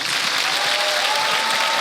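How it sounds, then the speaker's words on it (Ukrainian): Studio audience applause for a comedian on a Ukrainian comedy show, a dense, loud, sustained wash of clapping with no breaks throughout the short stretch. "аплодуємо Влацю, король монологів з Тернополя."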